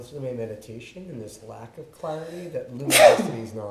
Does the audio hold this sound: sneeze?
yes